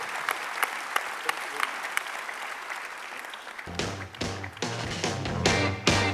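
A conference audience breaks into applause for the head of a business federation at a general assembly, starting as sparse scattered claps and swelling into fuller, louder clapping near the end.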